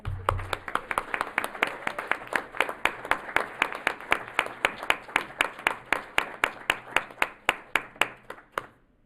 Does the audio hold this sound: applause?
yes